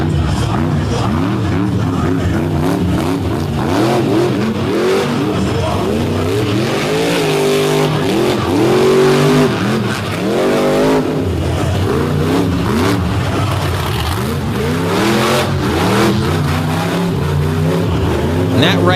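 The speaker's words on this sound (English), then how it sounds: "We're going right into Monster Truck Freestyle." A monster truck engine roars and revs through a freestyle run at an outdoor dirt track, with loud, sustained, rising and falling engine sweeps and an announcer talking over it.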